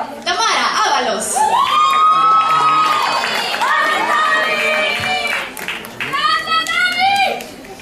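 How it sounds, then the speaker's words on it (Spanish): A crowd at a professional women's pole dance final at the Pan American Pole Championship cheers loudly, with high shouts and whoops rising and falling over continuous roaring noise. "Un fuerte aplauso para Tamara Ábalos."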